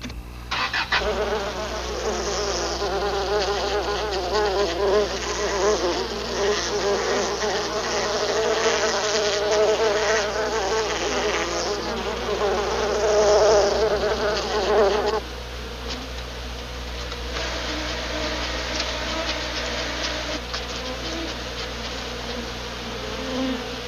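A swarm of Africanized bees in the 1995 film Killer Bees drones steadily throughout, a loud, dense, continuous buzzing that thins slightly partway through but never stops.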